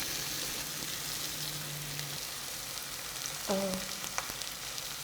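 Pork and kimchi frying in a pan for a Korean dish give a steady close sizzle throughout, with a brief exclamation and a few small clinks near the end.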